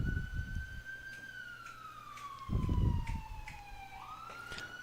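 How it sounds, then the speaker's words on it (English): An ambulance siren wails steadily at a cricket ground during a West Indies Championship match between Trinidad and Tobago and Guyana, a long gliding tone that sinks slowly in pitch and then jumps back up, with brief crowd and commentary noise underneath. "listen to the siren of the ambulance"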